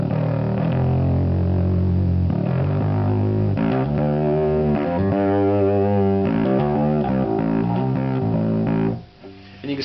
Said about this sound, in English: Now let me move the distortion, or the fuzz, up to about